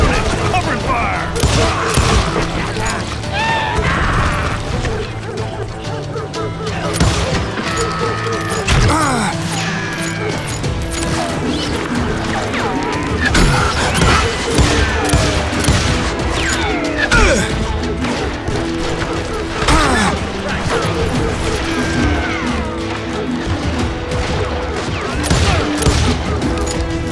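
Continuous, dense gunfire fills a frantic gunfight in the video game Call of Juarez Gunslinger, with rapid overlapping shots, crashes and impacts over music, and voices shouting now and then.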